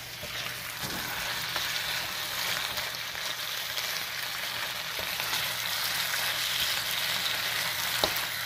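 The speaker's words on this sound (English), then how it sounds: "you're going to continue to stir fry this in the wok for about 2 minutes" Steak stir-fried in a wok for a Chinese dish, giving a steady, dense sizzle throughout with faint scraping and stirring noises, close and fairly loud, with no voices.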